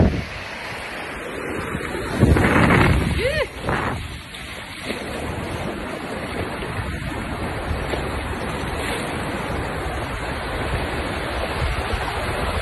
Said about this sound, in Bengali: এই যে বিশাল ঢেউ আশ্রয় পড়তেছে।